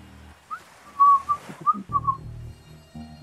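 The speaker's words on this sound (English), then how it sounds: "this stuff will pick up my whistling" A person whistles a short, wavering tune of a few bright notes, close and clear over a faint low background hum.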